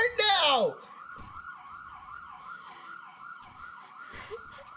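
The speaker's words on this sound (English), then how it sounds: "Look, you hear those sirens?" An ambulance siren wails in a steady rising-and-falling pattern at moderate distance, following a brief loud burst at the start, with faint background noise and no talk over it.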